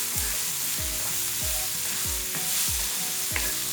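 Prawns frying and being stirred in a pan, a steady close sizzle broken by about seven regular thumping scrapes of the spoon against the pan bottom, with no voices.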